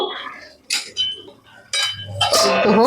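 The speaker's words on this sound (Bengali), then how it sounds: "এবার চিনিটা দিয়ে নেড়ে ছেড়ে নেবো" A spatula scrapes and clinks in a pan as sugar is stirred into a pumpkin greens curry made with ground pea lentils, giving a few short metallic scrapes and knocks close by, separated by quiet gaps.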